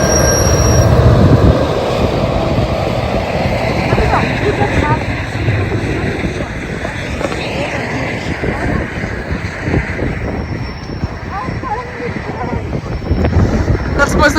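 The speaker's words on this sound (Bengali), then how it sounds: "কানাডায় এই ট্রেনটাকে বলে গো ট্রেন।" A GO Train passes close by in Ontario, Canada during a late-March snowstorm, a loud continuous rumble of rail cars with squealing wheels and gusting wind across the microphone throughout.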